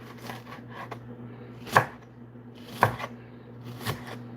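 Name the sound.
cutting an onion into pieces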